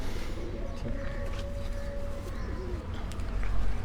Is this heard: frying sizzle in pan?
no